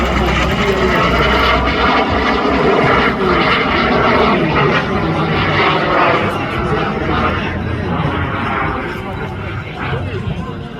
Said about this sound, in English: flying the subsonic JSX Microjet as he comes all the way around in the classic Barnstormers loop